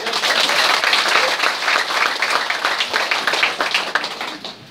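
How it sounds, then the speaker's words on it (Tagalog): A crowd claps together in a sustained burst, dense and fairly loud from start to finish, with the sound thinning only slightly as it winds down. "kung gusto mo, pumalakpak ka."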